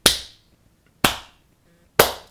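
A slow clap sound effect from the Dragon Quest Monsters Joker 2 video game: three single sharp claps spaced about a second apart, each snapping loud and dying away quickly into near silence.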